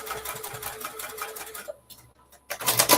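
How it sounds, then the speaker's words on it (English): A sewing machine runs a 1/16-inch straight stitch down the side of a bucket bag, a fast steady rattle that stops briefly midway and then resumes loudly near the end. "we're going to go ahead and just do a 1/16 of an inch stitch straight down"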